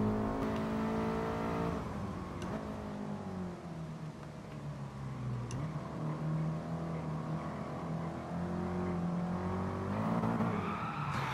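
Race car engine in GT Sport revving and accelerating hard near 7,000 RPM on a treacherous track, a loud continuous harmonic roar with pitch sweeps through gear changes, tires squealing at moments.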